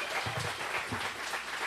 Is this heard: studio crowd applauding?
yes